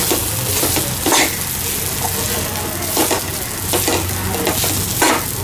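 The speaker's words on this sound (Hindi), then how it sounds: "अब उसमें साबुदाना डाल दीजिए।" Sabudana, tapioca pearls, being stirred in a pan for khichadi, with a loud, continuous sizzle of frying and repeated scraping strokes of a spoon across the pan, heard up close.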